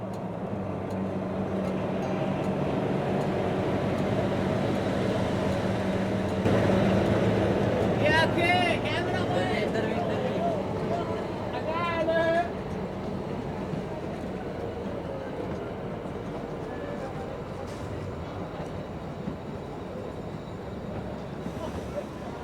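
The Shivalik Deluxe Express runs along the Kalka-Shimla railway, giving a continuous rumbling ride noise from inside the moving train, with people talking over it for much of the time.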